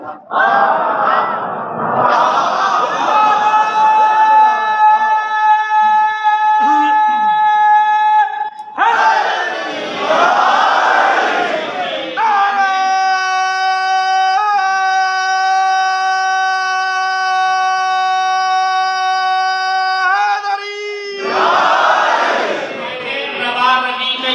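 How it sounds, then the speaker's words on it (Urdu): Large crowd at a gathering chanting a religious slogan with fervour, loud massed voices surging in repeated waves, separated by a leader's sustained amplified calls that echo widely. "نعرہ جب لگاؤ نا تو جوش کے ساتھ لگایا کہ نعرے کی گونج دور تک جائے"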